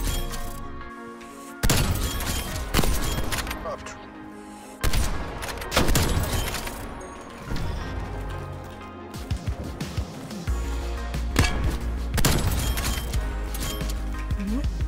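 Rapid bursts of gunfire in a Call of Duty Search & Destroy match, loud cracks in clusters with pauses between, over a continuous in-game soundscape.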